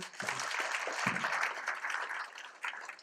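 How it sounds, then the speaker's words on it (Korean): Delegates at a metalworkers' union regional convention applaud an audit committee member, a fairly quiet, even roll of many hands clapping that holds steady for the whole stretch. "감사위원님 고생하셨습니다. 박수 한번 쳐주십시오"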